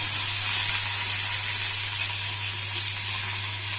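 Steady, loud sizzle of curry leaves and onion frying in hot oil with chana dal and urad dal, tempering for kara dosai (paruppu adai) batter, a continuous bright hiss with a low hum beneath and no talking.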